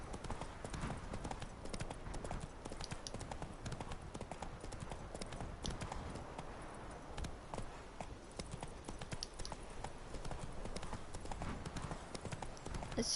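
Geralt's horse Roach trots steadily in The Witcher 3, hooves clip-clopping in a continuous rhythm at close range for the whole stretch, over a bed of game ambience.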